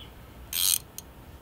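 A crescent wrench tightening a 12-point bolt on a back wheel gives one short, loud metallic rasp or ratcheting burst, then a single sharp click, close up against a quiet background.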